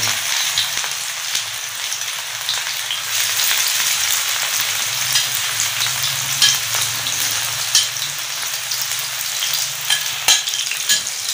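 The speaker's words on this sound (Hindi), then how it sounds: "घी हमारा गर्म हो गया, आंच हमने हल्की कर दी और अभी फ़िश को फ्राई कर लेते हैं, तवा फ़िश।" Fish frying in hot ghee on a tawa over low heat, giving a constant dense sizzle with frequent small crackles and pops, loud and close, with no voices.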